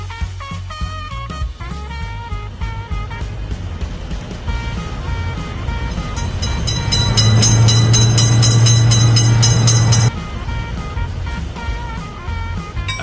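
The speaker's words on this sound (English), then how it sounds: "Attention, train is coming." A cartoon train rolls by, building gradually into a loud, steady low hum that peaks and then drops back to clattering movement.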